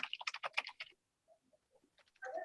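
Quick bursts of keyboard typing, close and clear, pausing into near silence with a few soft clicks before another rapid flurry of keystrokes.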